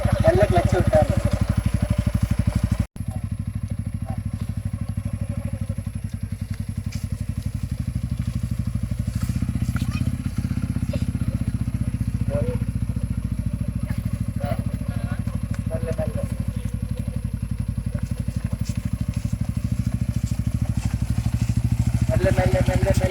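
A motorcycle engine idles and revs unevenly as a learner rider lets out the clutch, a close rumbling drone with a brief cut near the start, while voices talk over it throughout.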